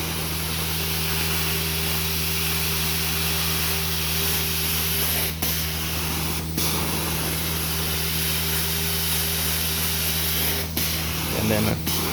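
A carpet extractor sprays a jet of water into soiled carpet while its vacuum port sucks it back up. The steady, loud whine and hiss run continuously with a few brief breaks, and no one speaks over it.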